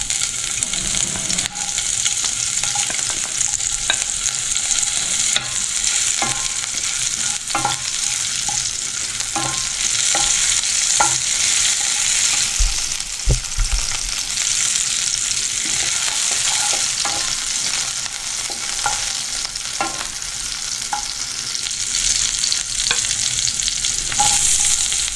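Sabudana khichdi frying with chilli in a pan, a continuous close sizzle broken by repeated spoon scrapes and taps against the pan at an irregular pace throughout.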